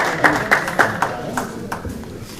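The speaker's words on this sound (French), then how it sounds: "On l'applaudit." An audience at a French federation's elective general assembly claps for a candidate: a handful of separate, fairly sharp hand claps spread over a couple of seconds against a low murmur of the room.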